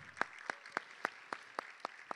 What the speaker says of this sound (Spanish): la novena expositora, Mónica Stilo, para quien pido un fuerte aplauso